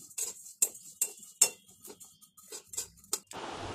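Cumin seeds dry-roasting in a pan, stirred with a utensil that gives a series of sharp, evenly spaced taps and scrapes against the metal, followed by a soft hiss of moving seeds at the end.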